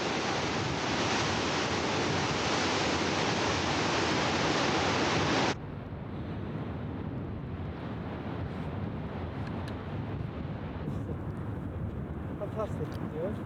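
Huge ocean waves pound a cliff in the Faroe Islands, a loud, roaring wash of surf with heavy wind buffeting, abruptly dropping to a quieter, steady surge partway through.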